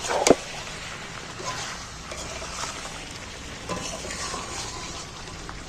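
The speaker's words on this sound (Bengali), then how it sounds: "এইবার নুনটা দিয়ে নাড়াচাড়া করে দিচ্ছি" Chicken pieces being stirred in a frying pan after salting for a home-style chicken curry, a steady soft sizzle with scraping spoon strokes and a couple of sharp utensil knocks at the start and end.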